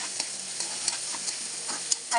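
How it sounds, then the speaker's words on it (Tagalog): Garlic and onion sautéing in a pan while being stirred, a constant bright sizzle with periodic scrapes and light clicks of the utensil, close and busy throughout. "Halo-haloin natin guys hanggang maluto ang ating mga sangkap."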